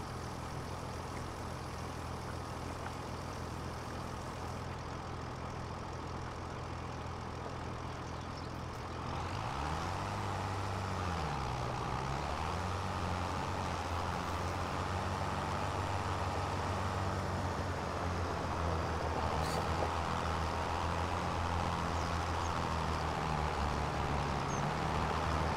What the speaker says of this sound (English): this Challenger is not much of a tractor, honestly. It struggles.